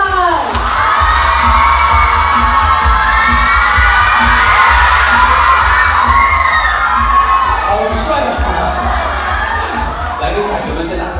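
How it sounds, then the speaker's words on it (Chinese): An indoor audience at a celebrity birthday fan event cheers and screams loudly and continuously, a dense roar of excited voices with applause underneath. "接下来就是热情的掌声和海啸，欢迎张哲曼"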